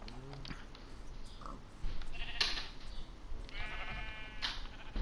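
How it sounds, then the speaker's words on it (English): Sheep bleating in the Minecraft video game, a few short synthetic bleats among game sounds over steady background noise, fairly close and moderately loud. "Come in here, you stupid sheep."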